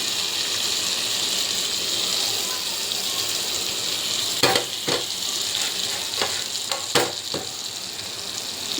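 Butter sizzles steadily in a hot pan with a constant crackling hiss, joined midway by several sharp clicks and scrapes of a utensil against the pan; no voices.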